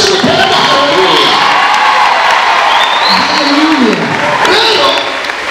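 A church congregation clapping and cheering, a loud, dense and continuous roar of applause mixed with shouting and whooping voices throughout.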